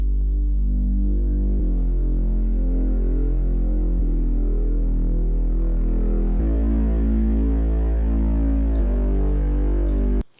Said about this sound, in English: this is a Serum preset, and this preset allows us to sort of bring up the cutoff